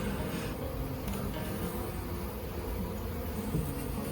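Honeybees buzzing around a backyard hive with a top feeder, a dense steady drone close by that continues throughout without pause.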